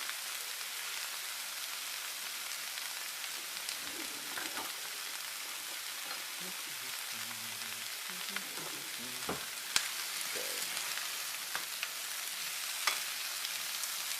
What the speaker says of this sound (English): now let's start with the stir fry